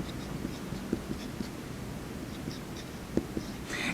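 A pen or pencil writing out chemistry calculations by hand, with soft scratching strokes and a few light taps close by, quiet and steady with no voices.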